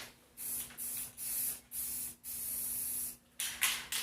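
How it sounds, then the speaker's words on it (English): Aerosol spray can of primer for a Yamaha RD350 motorcycle restoration, hissing in six short bursts of about half a second each, broken by brief pauses, close and fairly loud with no talk. "spray the paint a little bit out onto something just to get it spraying"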